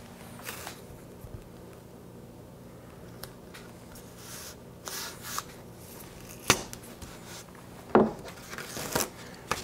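Masking tape being handled and pressed onto a leather pattern for an 1872 open-top holster: quiet, sparse rustles and soft crinkles, with a few sharper peeling or sticking snaps near the end, set against faint room noise.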